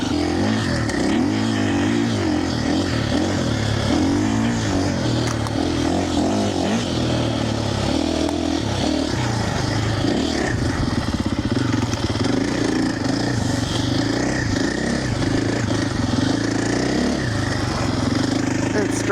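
A 2025 KTM Champion Edition four-stroke motorcycle is ridden, its engine droning close and continuous as the revs rise and fall throughout the ride.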